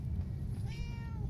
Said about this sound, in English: Meow. Kitty cat.